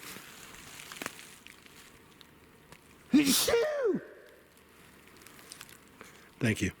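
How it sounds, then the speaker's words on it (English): A single loud, close sneeze bursts out mid-clip with a sharp breathy onset, set against quiet room background, with brief speech afterward. "Hold on, I gotta sneeze."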